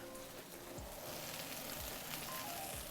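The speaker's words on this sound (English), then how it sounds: "Oh, good sizzle happening here, guys." Mushrooms frying in oil inside a wood-fired Pizza Porta oven, a steady close crackle and hiss with faint pops throughout, no talking.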